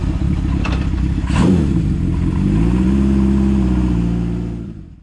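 An original Honda CB750 Four motorcycle engine runs steadily and loud while riding, revving up with rising pitch around the middle, then the sound fades out toward the end.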